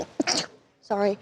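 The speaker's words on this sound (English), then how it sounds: "I didn't want to sneeze right into the mic." A single sharp human sneeze, loud and close, followed by a brief apologetic spoken word from the same person.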